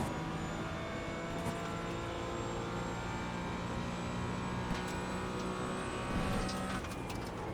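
Porsche Cayman GT4 in iRacing at Circuit de la Sarthe, Le Mans, its engine droning steadily at high revs from up close, with a brief lift and pitch change near the end.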